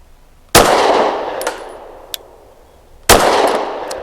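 Two sharp, loud pistol shots from a SAR 9C Gen 3 firing 124-grain Federal HST nickel-plated rounds, each followed by a ringing tail, with a faint metallic clink between them.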